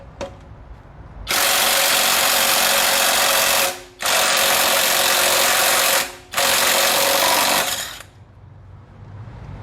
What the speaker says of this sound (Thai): เดี๋ยวมาลองทดสอบกันดูเลย กับบล็อกไร้สาย STR รุ่น 780 นะฮะ